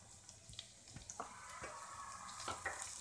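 Long-cut cabbage tipped into onions frying in a pan for fried rice, with a quick burst of sizzling and hiss, a few soft stirring knocks, then steady crackling close by.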